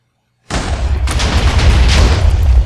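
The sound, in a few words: TNT cannon explosion in Minecraft video game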